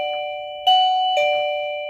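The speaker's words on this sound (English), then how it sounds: "they click their button, and then it rings on your phone and you can answer" Annke smart video battery doorbell chime ringing through a phone speaker, a clear electronic bell tone struck three times in a steady ding pattern, each note ringing on and fading slowly.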